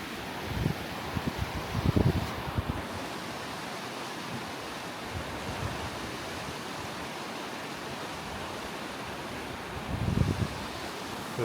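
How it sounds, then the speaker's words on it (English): Steady roar of rushing Class 5 whitewater rapids fills the whole clip, broad and constant, with a few louder surges near the start and end. "That's Class 5 rapids right there"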